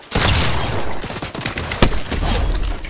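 Shotgun fire in the video game Fortnite: a dense, continuous barrage of loud, close shots and crackling impacts over a steady roar of game action, with one especially sharp blast near the end and no voices.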